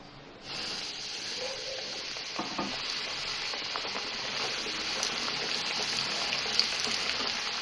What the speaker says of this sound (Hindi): मीडियम आंच पे इसको 5 से 7 मिनट लगेंगे फ्राई होने में।